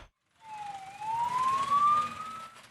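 Wailing siren from a fire engine responding to a blaze at a wood processing factory, rising steadily in pitch and sounding fairly close, with low engine rumble and traffic noise beneath.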